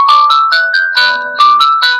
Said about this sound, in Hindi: रिंगटोन टाइप इसके अंदर बजेगी just to find the watch, अगर आसपास कहीं खो गई है तो।